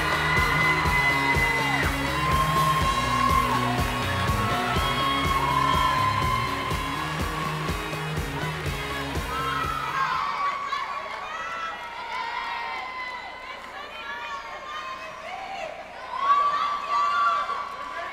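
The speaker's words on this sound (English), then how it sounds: "The crowd is truly going nuts right now." A pageant audience at the Miss Florida USA 2017 results cheers, whoops and yells loudly and continuously, first over loud stage music and then on its own as the music cuts out.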